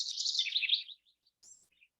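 A house wren sings a bubbly, tumbling run of high notes lasting about a second, then a short separate phrase follows after a pause, clear and alone against silence.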